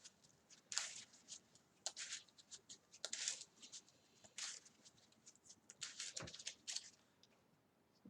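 Playing cards being shuffled for the Marvel Champions card game, a series of quick riffling bursts with soft card patter in between, close and fairly quiet, with no talking.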